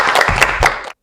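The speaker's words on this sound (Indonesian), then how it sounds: "Kita tepuk tangan." A classroom group claps hands together during a group guidance session, a short burst of applause lasting under a second that stops abruptly, loud and close.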